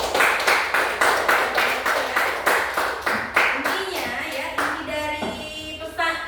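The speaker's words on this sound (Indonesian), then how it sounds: "Tepuk tangan lagi untuk kakak." A group claps rhythmically in unison for a child, steady regular beats that loosen and fade near the end as a voice begins talking over them.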